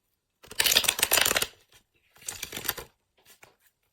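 Tarot cards being shuffled loudly and vigorously in two long bursts of rapid riffling and slapping, with a few faint card taps after, close up and with no talking.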